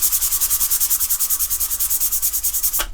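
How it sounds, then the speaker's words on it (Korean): Sandpaper is rubbed rapidly back and forth over a stainless steel pot with burnt-on residue, making steady, rhythmic scratchy strokes about eight per second, close and continuous. "그거를 이제 사포로 한번 쫙 미시고요"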